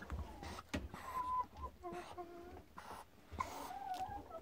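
Young roosters around three months old make faint clucking and short squawks in a backyard poultry pen, distant and scattered over low ambient noise.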